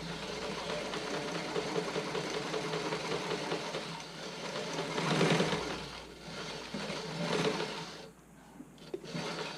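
A sewing machine stitches a test bra, its motor whirring and needle tapping steadily at close range, with brief surges in speed before it stops near the end.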